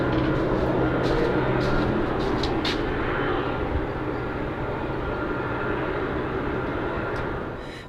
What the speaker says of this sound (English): As I'm talking to you guys right now, I hear a chopper flying above.